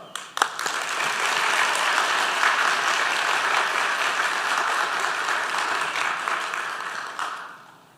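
A church congregation bursts into sustained, dense applause of welcome for a returning senior pastor, loud and even for several seconds before fading out.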